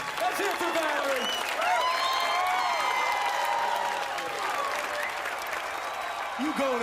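An improv show audience applauds, a sustained wash of clapping with scattered whoops and cheers and some voices heard over it.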